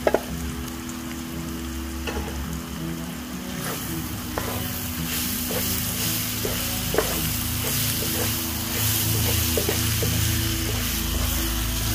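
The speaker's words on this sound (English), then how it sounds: "we're basically making a nice little stir fry we're going to use with the fried fish" Onions, mushrooms and garlic chives stir-fried in a pan, a continuous sizzle with repeated scraping clicks of the utensil against the pan at an irregular rhythm, close and fairly loud, with no talking.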